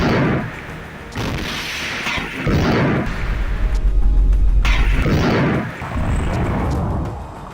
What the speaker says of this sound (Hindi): शायद आईडीएफ का टैंक भी एक गोला दागता है, लेकिन उसके साथ ही अल कुद्स का लड़ाका उसके ऊपर रॉकेट दाग देता है।